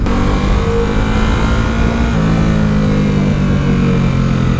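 A stock 2017 Ducati Supersport motorcycle engine running loud and close, a steady throaty drone with slight throttle swells and no speech.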